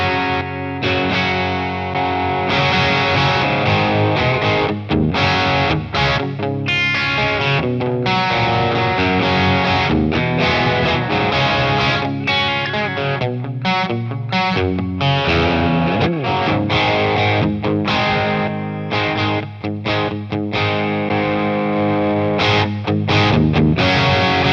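An electric guitar played through a Rangemaster-style treble boost into a solid-state Boss Katana Artist MKII amp gives loud, bright, driven chords and riffs, sustained and continuous for the whole stretch, with no talking.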